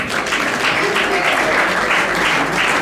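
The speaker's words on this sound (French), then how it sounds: "J'invite comme ça Novasi Pierrot sous vos applaudissements" Dense, loud applause from a large audience at an awards ceremony, a continuous wash of clapping with no breaks across the whole stretch and no distinct individual claps or voices standing out.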